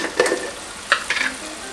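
Chopped onion going into a pan of sausage that is already frying in its own juices, a steady low sizzle with a few soft scrapes and stirring clatters near the start and middle.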